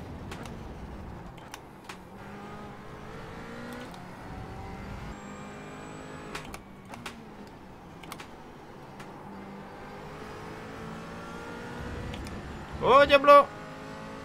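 A McLaren race car engine revs and drones steadily in the iRacing sim, the pitch rising and falling with throttle under near-constant talk, ending in a short loud burst of revving.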